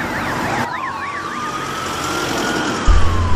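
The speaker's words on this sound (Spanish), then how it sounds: "soy una sirena de policía" A police siren wails on a Madrid street, its rising and falling tones loud and nearby, with a sudden low rumble entering near the end.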